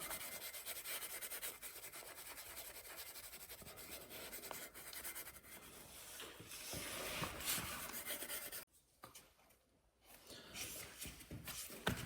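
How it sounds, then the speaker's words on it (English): Close, continuous scrubbing and rubbing against a motorcycle's surface to lift marks, a rough brushing texture with a short pause near the end before the scrubbing resumes. "just after a few minutes of scrubbing there, that bit of elbow grease, that the marks have come off"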